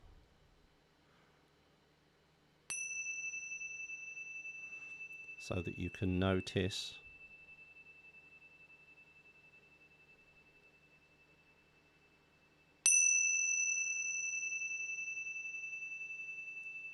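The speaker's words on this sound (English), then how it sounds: "I'll sound the bell" A meditation bell is struck twice, each time ringing out with a clear tone that decays slowly over many seconds, with a person speaking softly between the strikes.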